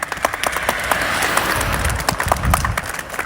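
A crowd claps in a dense, scattered burst of applause that keeps going throughout, fairly loud and close, at a rally of miners marching to Ankara.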